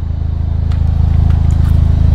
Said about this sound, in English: This is in sport mode race exhaust, just at idle.